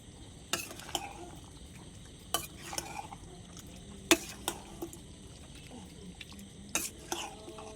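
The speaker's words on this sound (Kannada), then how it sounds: "ಮಿಕ್ಸ್ ಮಾಡ್ಕೊಳ್ಳಿ." A spoon scrapes and clacks against a pan at irregular intervals while chopped chicken for chicken sukka is stirred over a low, continuous sizzle.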